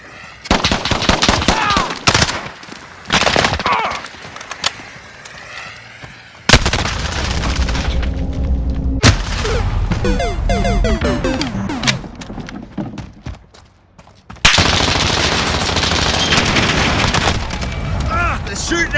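Modern Warfare video game gunfire: loud bursts of machine-gun and rifle shots with heavy booms and explosions, dense rapid volleys that pause briefly and return, with voices speaking over the combat.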